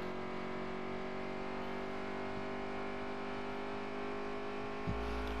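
A race car engine in a racing video game on the Charlotte Roval, holding a steady, even drone at moderate level throughout, with a brief low thump near the end.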